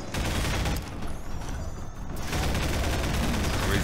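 Enemy gunfire through metal grating in Half-Life 2: Episode Two, a dense, loud burst of rapid shots that thins briefly midway and then resumes strongly.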